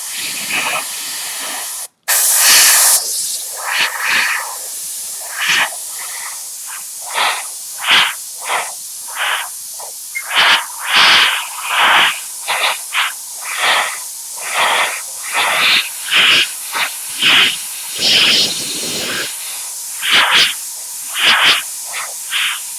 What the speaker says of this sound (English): I am spraying off of the red now.